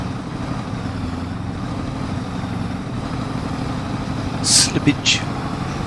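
A fully loaded truck strains in the Farming Simulator game, its engine holding a steady low drone with a couple of brief sharper bursts near the end.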